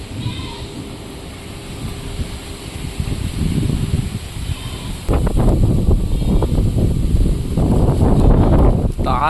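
Strong wind gusting outdoors in a Bengal village, a loud continuous rumbling buffet against the microphone that swells harder partway through.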